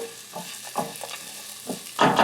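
Vegetables sizzle and caramelize in a hot pan for baby back rib sauce, with soft frying hiss broken by several short stirring scrapes and a louder burst of sizzle at the end.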